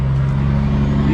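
A large truck passes on a road close by, its loud, steady engine drone and low hum filling the whole moment.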